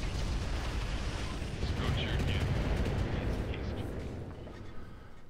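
Mech weapons in the BattleTech game Roguetech pound a building in a dense, continuous barrage of booming blasts and rumbling impacts that stays loud throughout.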